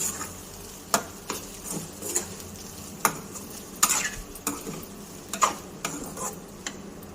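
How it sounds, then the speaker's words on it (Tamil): Cooked rice being stirred into egg in a pan for egg rice, with repeated sharp scrapes and taps of a utensil against the pan at an irregular rhythm over a soft, low sizzle, close up. "சாதம் போட்டு நல்லா மிக்ஸ் பண்ணி விட்டுருக்கணும்."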